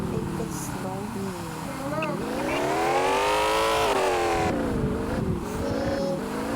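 A car driven in the Roblox game on a farm, an engine drone rising and falling in pitch as it revs and slows, heard close under a person talking.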